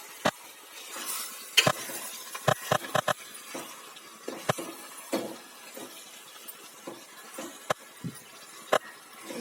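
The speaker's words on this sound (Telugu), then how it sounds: "ఇలా తిప్పుతూ కలుపుకుంటూ ఉండాలి" Chicken pieces being stirred with fried onions, green chillies and curry leaves in oil, a spoon scraping and clinking against the pan in sharp irregular knocks over a soft sizzle.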